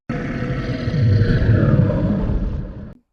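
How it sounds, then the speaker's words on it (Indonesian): A deep, rough monster growl swells and rumbles for a few seconds, loud and close, then cuts off abruptly. "Kadang ada suara geraman,"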